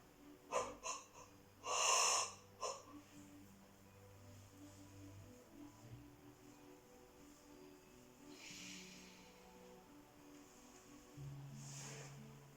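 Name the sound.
yawning and breathing during yoga relaxation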